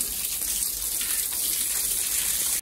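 Tap water gushes steadily as it fills a container, a continuous broadband rush that stops abruptly when the flow is shut off at the very end.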